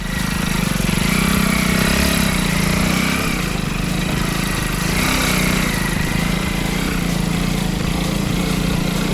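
A motorbike engine drones steadily and fairly loud for the whole stretch near a cave, a continuous mid-pitched hum without a clear rise or fade.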